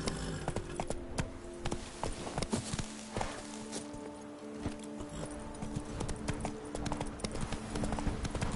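Roach, the horse in The Witcher 3, clip-clops along with steady, close hoofbeats, crisp repeated hits over a busy game soundscape.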